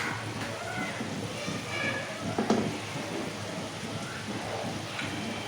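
Aar fish pieces dropped into hot spiced oil in a saucepan, giving a steady, moderately loud sizzle and crackle throughout with no talking.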